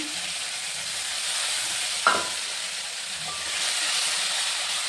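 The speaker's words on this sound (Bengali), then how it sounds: "ভালো করে আদাটাকে ভেজে নেব" Ginger paste fries in oil with cloves, cinnamon, cardamom, a pinch of asafoetida and turmeric for an eggplant kalia. A soft, steady hiss runs throughout, broken by one brief scrape of a spoon partway through.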